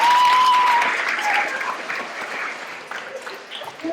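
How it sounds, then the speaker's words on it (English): A school assembly audience on Leadership Day breaks into a round of applause, a loud, dense wash of clapping that carries steadily throughout and tapers slightly toward the end. "Please give her a round of applause."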